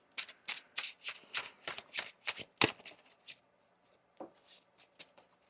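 Tarot cards are shuffled and riffled by hand in quick bursts up close, with soft slaps and rustles and quieter pauses between.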